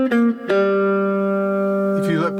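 Four-string cigar box guitar playing a short blues phrase on open strings, a couple of quick plucked notes followed by one long ringing note that sustains and fades, close and clear.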